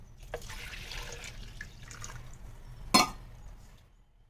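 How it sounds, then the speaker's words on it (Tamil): Water is poured into a pot of coconut milk for cooking rice, a quiet trickling splash with a sharp clink of a vessel near the end. "அரிசி எவ்வளோ இருக்கோ அவ்வளோ தண்ணி ஊற்றிக்கலாம்"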